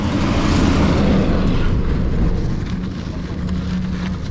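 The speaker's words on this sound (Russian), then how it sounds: "Сейчас большой груз проедет, и за ним пыль." A heavy truck rumbles past nearby, a loud low roar that swells and then fades slightly, with wind noise throughout.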